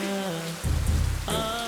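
Rain in a Tamil TV drama scene, a dense steady hiss of falling water blended with sustained musical tones, with no talking.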